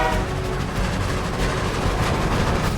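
Animated scene of a train at a station: a steady, loud rumbling roar of rolling rail cars with faint rhythmic clatter, continuous throughout with no voices.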